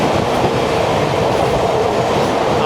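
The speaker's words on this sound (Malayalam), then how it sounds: "കണ്ണൂർ ആലപ്പുഴ എക്സിക്യൂട്ടീവ് എക്സ്പ്രസ് ആണ്" The Kannur–Alappuzha Executive Express rushes past in a loud, steady roar of rolling wheels and carriages, with a little wind noise on the microphone.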